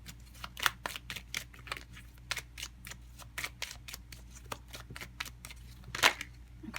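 Tarot cards being shuffled by hand, a quick run of close, crisp riffling flicks repeating in a steady irregular rhythm, with one sharper snap near the end and no voices.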